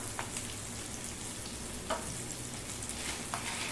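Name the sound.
tomatoes frying in pan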